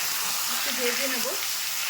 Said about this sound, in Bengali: সিমটাকে একটু ভেজে নিয়েছি